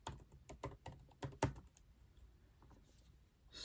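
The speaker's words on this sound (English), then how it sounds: "actually typing this out, typing the prompt out" A computer keyboard is typed on in short irregular bursts of crisp clicks, one sharper key strike standing out. The typing then fades into quieter background noise.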